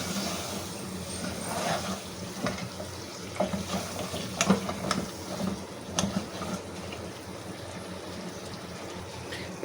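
Mutton curry masala frying in a pot with water added, a steady sizzling hiss broken by scraping stirs and occasional clinks, fairly close and continuous with no talk.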